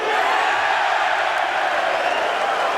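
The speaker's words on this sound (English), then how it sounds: "the crowd are back in full voice" A pool crowd at the 2018 Mosconi Cup roars in full voice, a dense, continuous wash of cheering and shouts that stays loud and even from start to finish.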